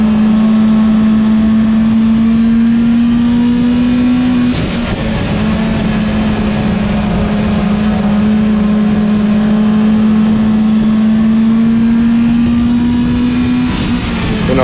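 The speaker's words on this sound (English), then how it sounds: "The 2-liter Focus is doing just fine." A 2-liter Ford Focus race car engine drones loud and steady at a speedway, holding a sustained high-revving tone with a brief dip partway through.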